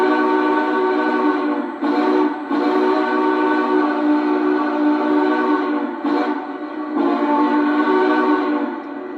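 A quillable steam whistle from a Lionel Union Pacific 844 4-8-4 model locomotive sounds in three long chord blasts with brief gaps between them, loud and close with no other sound.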